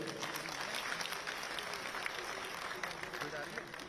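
A university audience applauds at a book launch ceremony at Delhi University, a dense, fairly faint sustained clapping with some crowd murmur mixed in.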